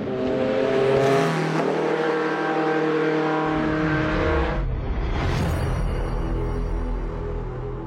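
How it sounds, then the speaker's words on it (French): Panoz GT race car on the Spa circuit, a loud engine roaring close by with rising revs and gear changes as it passes and pulls away, with no talking. "Regardez comme elle est belle cette voiture, c'est une Panose, une GT"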